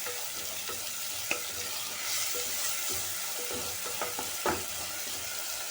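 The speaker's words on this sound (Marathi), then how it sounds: "परतून घेते।" Chopped onion and tomato sautéing in a pan, a steady soft sizzle with occasional stirring clicks and scrapes, close and moderately loud with no talk.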